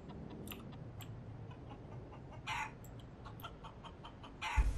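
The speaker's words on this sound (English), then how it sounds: "Shoot the chicken." A chicken in Counter-Strike: Global Offensive clucks a few faint times under a low, steady game ambience, with brief scattered calls and a thump near the end.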